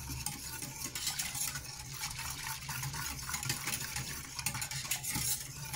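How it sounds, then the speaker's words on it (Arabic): A spoon stirs hot chocolate ingredients into milk, making a continuous close scraping and swishing with light clinks against the pot, fairly quiet and steady throughout with no voices. "هنا نخلط المكونات تاعنا حتى يتخلط مليح مع الحليب."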